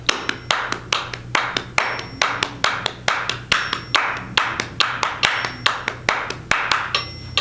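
Steady, even hand claps at 140 beats per minute, about two per second, continuing without pause for several seconds, close and crisp.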